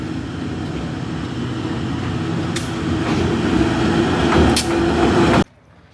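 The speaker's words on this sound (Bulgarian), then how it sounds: "Так му и влака идва." A passing train rumbles steadily and loudly on a rainy trail near Machu Picchu in Peru, with brief high squeals rising over the roar before it cuts off abruptly.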